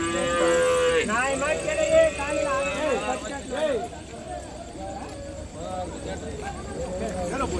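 Cattle at the Vaniyambadi livestock market moo loudly and repeatedly, with long drawn-out calls close by, while people talk and chatter around them.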